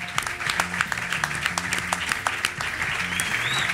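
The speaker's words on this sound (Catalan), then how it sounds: "Un aplaudiment, també, sisplau." A live audience at a podcast show recorded at Casa Gràcia in Barcelona gives a short burst of clapping, dense and close, over background music with a steady repeating beat.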